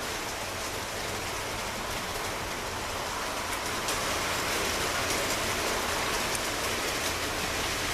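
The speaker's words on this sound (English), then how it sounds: "It's raining now." Steady rain falls outdoors, a dense, even hiss of drops on surfaces, continuous and fairly close, with no voices.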